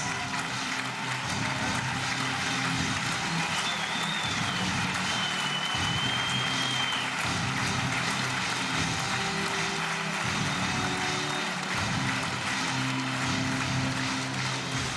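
A badminton arena crowd at the 2013 Denmark Open applauds through the medal ceremony, dense continuous clapping filling the hall at steady loudness, with a faint tone drifting above.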